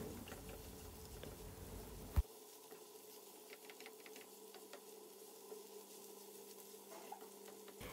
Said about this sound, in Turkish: Evet, havucumuzu karıştıralım ara sıra.